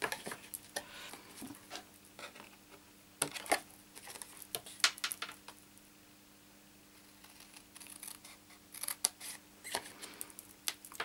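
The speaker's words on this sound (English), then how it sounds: "These paper snips are brilliant because they cut right to the edge of the blade." Paper snips cut through scored cardstock while a gift box is being made, giving a series of close, crisp snipping clicks in short bursts with quiet pauses between them and no talking.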